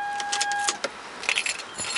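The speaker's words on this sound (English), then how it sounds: "I have to turn the car off now because I want it to cool down" Keys jangle and click in the ignition of a Toyota Sienna as it is shut off, a few short metallic rattles close by after a brief chime, no talking.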